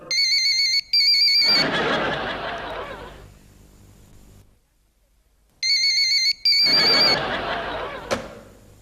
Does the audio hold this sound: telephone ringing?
yes